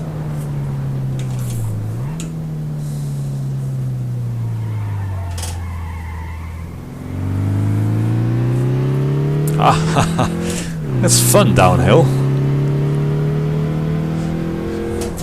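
Car engine in a VR driving simulator revving up and down through gear changes, a rising and falling drone with tire squeal bursts near the end, while someone talks over it.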